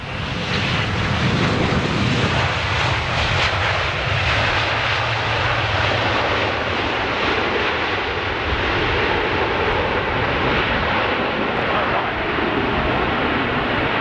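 Boeing 747 airliner G-BNLY in 'Landor' livery arriving at London, a loud sustained roar of engines and thrust reversers that stays heavy and continuous throughout.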